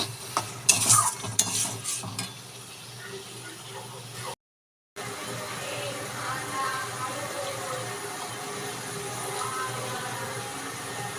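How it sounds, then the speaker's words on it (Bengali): Chicken keema being sautéed and stirred in a pan, with a faint sizzle and scraping spoon strokes; a few sharp clinks early, then a quieter steady frying hiss. "চিকেন কিমা আমি দিয়ে দিলাম দিয়ে এবার আমি এটাকে আরও ভালো করে কষাতে থাকবো"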